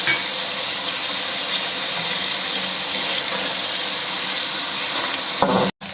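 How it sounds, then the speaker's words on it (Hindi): Chicken jalfrezi with ginger paste frying steadily over low heat in a pan, a continuous close, even sizzle that cuts off abruptly near the end. "मैंने हल्की आंच पे इसको 2-3 मिनट के लिए फ्राई किया है, और जिंजर मैंने डाल दिया था"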